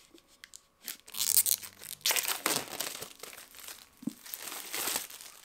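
Paper and cardboard crinkle and tear in short bursts as a package is slit open with a letter opener, close and fairly quiet, with a brief electronic tone early on.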